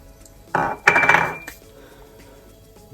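Knife cutting mango burfi on a tray, giving a couple of short scraping, clinking strokes against the metal close by, followed by quiet.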